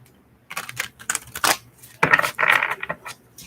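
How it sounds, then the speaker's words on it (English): Tarot cards shuffled by hand in a series of crisp riffling and flicking bursts, close and fairly loud, with short pauses between, no talking. "So just shuffling these cards really good."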